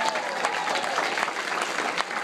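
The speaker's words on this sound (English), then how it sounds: "Give them a round of applause." A conference audience claps together in a steady, dense round of applause that fills the room, with no voices rising above it.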